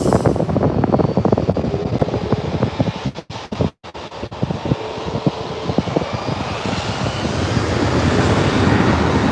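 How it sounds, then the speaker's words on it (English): A Level Airlines airliner takes off at LAX with a loud, steady jet roar that briefly dips before surging back and holding strong. "That Level Airlines flight is taking off behind me"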